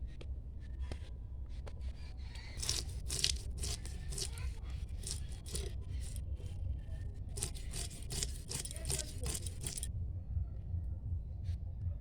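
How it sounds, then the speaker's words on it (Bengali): A knife cuts through a whole snakehead (shol) fish, the head being chopped off before slicing it into thick steaks, giving repeated scraping, crunching cuts in bursts over a low background rumble. "আমি এবার মাছটা কেটে নিচ্ছি।"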